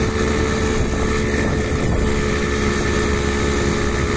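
A Babetta 210 moped engine runs steadily at close range. Its buzzing drone holds constant with no breaks, and wind noise rushes across the microphone.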